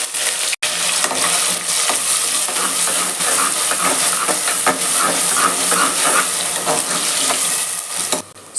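Onion hits hot oil already holding star anise and cinnamon in a pan, giving a loud, steady sizzle with frequent scraping stirs and crackles throughout, and no one speaking.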